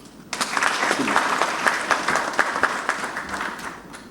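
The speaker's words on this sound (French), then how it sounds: "Je vous demande de les applaudir." Retirees who devoted their careers to drinking water are applauded by an assembled audience at an official review event, clapping that swells quickly from a quiet start and then holds a steady, fairly close roar of many hands.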